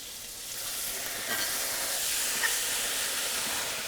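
Calamari strips sizzle in hot butter in a sauté pan, a steady, close frying hiss that holds evenly throughout with no talking.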